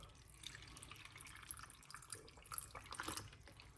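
Water trickles and splashes as it is poured into a cooking pot in a kitchen, a faint, irregular splashing with soft drips, quiet and close.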